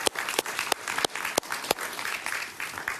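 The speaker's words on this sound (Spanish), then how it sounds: "Stanislao Sefcik, un aplauso para él" Studio audience applause for an elderly guest on a TV talk show, a dense wash of clapping with several sharp, close individual claps punctuating it.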